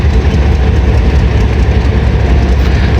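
A passenger shuttle train runs on rails in Pakistan, a loud steady low rumble of wheels and carriages with faint rhythmic clatter, heard close from on board with no talk.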